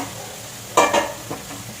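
Strips of ridge gourd dropped into a hot pan of oil with fried potatoes burst into a sudden loud sizzle, then settle into quieter frying with a faint stir.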